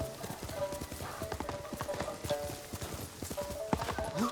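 A horse gallops in the Ghost of Tsushima video game, with rapid, steady clip-clop hoofbeats running throughout at close range over a busy background.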